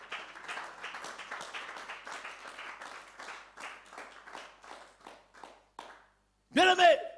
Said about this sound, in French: Acclame le Seigneur Jésus-Christ de Nazareth.